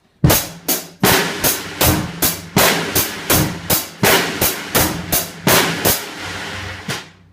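A drum kit plays a basic rock beat, with the bass drum and snare alternating under steady hi-hat hits. The strokes come as a regular string of sharp, close, loud hits over several seconds with no talking.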